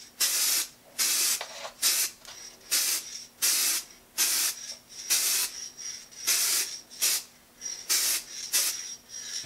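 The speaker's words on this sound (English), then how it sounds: "What you want to do is put on many very light fogging coats." A can of Spaz Stix Mirror Chrome spray paint lets out a steady series of short, loud hissing bursts, about a dozen light fogging passes in a regular rhythm with brief pauses between them, close by and with no talking.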